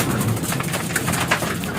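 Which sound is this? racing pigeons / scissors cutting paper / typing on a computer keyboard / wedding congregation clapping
racing pigeons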